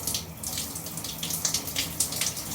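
Water runs steadily from a tap, a continuous close hiss and splash with small irregular gurgles, with no voices.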